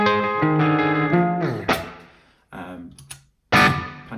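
Heavily distorted Quad Cortex guitar tone, sustained chords that slide down, then cut off and followed by short bursts of loud gained-up strumming, no talking.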